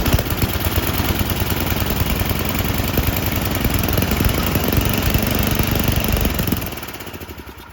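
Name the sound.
Tecumseh snowblower engine running after pull start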